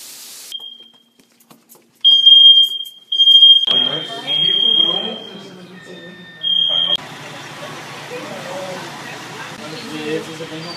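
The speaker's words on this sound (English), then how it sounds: "So I'm at Jess's place and there was a fire alarm." A shrill, steady false fire alarm beeps in long pulses inside a building, then gives way to people talking loudly nearby while the alarm continues faintly.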